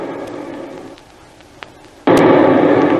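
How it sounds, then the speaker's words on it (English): Torpedo explosion hitting a ship in a radio drama, heard as a sudden loud, broadband blast that cuts in and holds as a roaring burst, following a quieter muffled rumble. "That was a torpedo."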